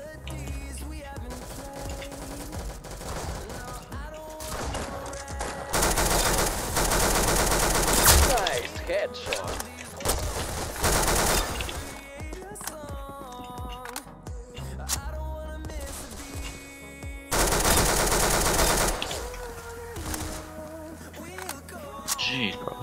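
Bursts of video game gunfire with dense fusillade stretches and rapid shots, mixed with game music and a player talking over it.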